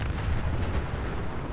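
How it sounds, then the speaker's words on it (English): Explosion in Fallout 4, a loud, dense low rumbling blast that holds steady for well over a second with no speech over it. "good timing on the explosion there"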